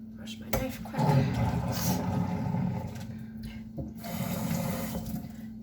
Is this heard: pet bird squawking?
no